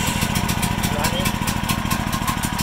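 A gas generator with a low oil alert and battery start runs with its choke off, giving a loud, steady, rapid engine putter close by throughout. Speech is present over it.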